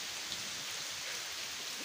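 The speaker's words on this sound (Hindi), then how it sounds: "और बारिश हो रही है।" Steady rain falls outside a home with potted plants, a dense, even hiss of drops on surfaces that holds constant and fairly close throughout, with no voices.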